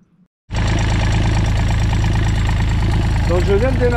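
A sailboat's inboard engine, under repair, fires up after near silence and settles into a loud, steady idle with a rhythmic low throb and clatter, continuing unbroken to the end.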